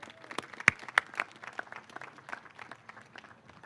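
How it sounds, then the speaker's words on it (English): An audience at an outdoor motorsports walk of fame ceremony in Long Beach applauds, a thin scattering of claps with a few sharp louder ones near the front, fairly quiet and distant overall. "So let's give her a big round of applause."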